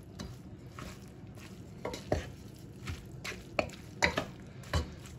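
A utensil stirs fried cabbage with sausage grease in a pan, scraping in scattered clinks and taps over a faint steady sizzle, close and fairly quiet.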